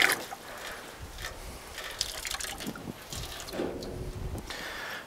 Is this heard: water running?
yes